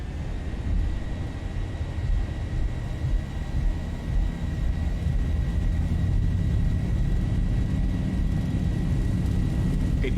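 A Boeing 737-700 in a flight simulator game rolls down the runway for takeoff, with a continuous loud low engine roar and a faint steady high whine, no talk over it.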